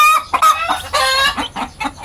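A hen clucks loudly and close by in a quick, choppy series of calls, with no talking.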